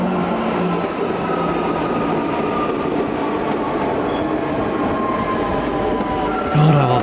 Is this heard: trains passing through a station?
yes